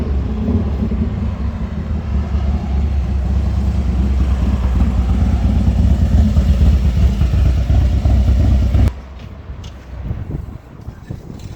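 A customized Harley-Davidson M8 motorcycle rumbles steadily at fairly close range as it pulls away on a test ride after engine work, then the engine note drops off sharply near the end, leaving quieter, more distant running.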